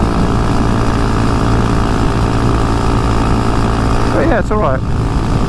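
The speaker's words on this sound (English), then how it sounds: "At least it sounds like a motorbike now" A 2022 Honda Monkey with a Termignoni exhaust idles nearby in a loud, steady low thrum. Someone speaks briefly over the engine near the end.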